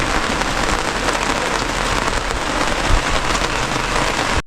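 Heavy rain pours steadily during a harvest, a dense, even roar of drops hitting surfaces close by, loud and unbroken with no voices.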